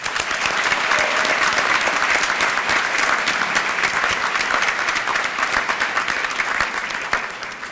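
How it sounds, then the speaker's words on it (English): Banquet hall audience at a 4-H leadership banquet applauding, a sustained, even wash of many hands clapping for several seconds before easing slightly at the end. "Let's give them a round of applause."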